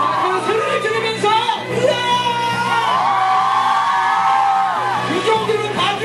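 A concert audience shouts and whoops together during an extended curtain call at a fireplace-themed concert, a loud sustained crowd roar with rising yells that swell over about six seconds.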